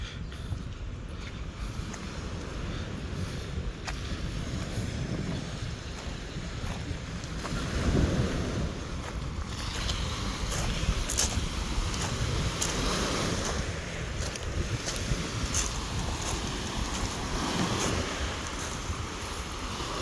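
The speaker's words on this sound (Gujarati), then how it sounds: "આવી ગયા ફરતા ફરતા બીચ ઉપર સેન્ડી બીચ સેન્ડી તો નથી ઓલો પથરાવાળો" Waves wash steadily onto a pebbly beach on Corfu, Greece, with clear water, under gusting wind across the microphone; the surf swells and recedes in a continuous, moderately loud wash with no voices.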